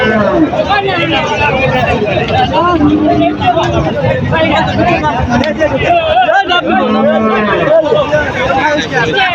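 A crowded rural cattle market with many local cattle and bulls for sale: occasional moos and lowing rise from a dense, continuous hubbub of people chattering nearby.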